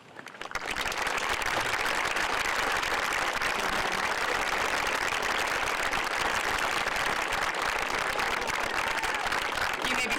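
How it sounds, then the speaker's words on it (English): A large audience at a 2019 high school graduation applauds parents and families, a steady, loud wash of many hands clapping that swells quickly after a brief lead-in and holds evenly throughout. "Seniors, please stand with me and applaud our parents and families"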